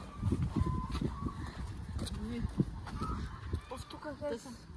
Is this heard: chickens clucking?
yes